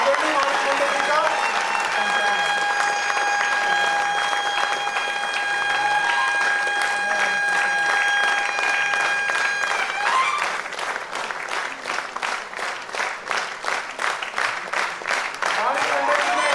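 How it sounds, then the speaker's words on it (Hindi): At a launch of two Hindi and Marathi books, a crowd applauds continuously while sustained tones ring alongside a voice. Midway the clapping turns into loud, rhythmic, unison beats that keep a steady pulse to the end. "लोगों से आग्रह है कि लोकार्पण तक सतत तालियां बजनी चाहिए।"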